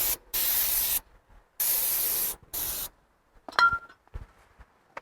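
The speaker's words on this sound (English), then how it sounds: "If you still have some brake clean, spray on the rotor to remove any dirt and debris we introduced." Three hissing bursts of aerosol brake cleaner sprayed onto a rear brake rotor of a 2009 Porsche Cayman, each about a second long, followed by a few light metallic clinks and taps.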